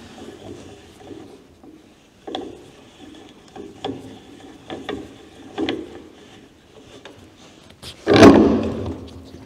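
Locking nut being unscrewed on a tire balancing machine for alloy wheels: a series of spaced mechanical clicks and rattles, then a louder scraping clunk near the end, close and without talk.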